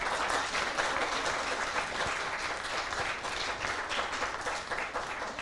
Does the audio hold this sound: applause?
yes